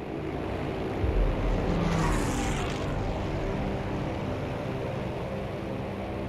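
A propeller warplane in the video game Battlefield V drones steadily across the whole stretch, swelling a little early on as it passes, a loud continuous engine roar with no talk over it.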